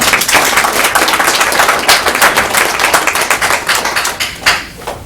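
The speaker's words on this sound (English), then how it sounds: "Show by a round of applause." Audience applause at a city council meeting, a dense, loud burst of many hands clapping steadily for about five seconds before thinning out near the end.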